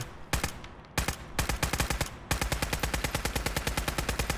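Rapid automatic fire from an MP5 submachine gun in Fallout 4, loud and close, in short bursts before settling into a long steady stream of evenly spaced shots.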